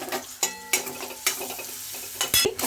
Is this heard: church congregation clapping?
no